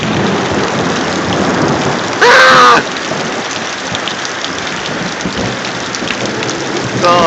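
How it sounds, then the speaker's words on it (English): Thunder rumbles low and loud beneath a continuous downpour of heavy rain, with a brief startled shout from a person cutting in partway through and the storm's roar building again near the end. "And that's a thunder!"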